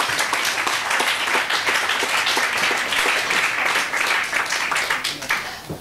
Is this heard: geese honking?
no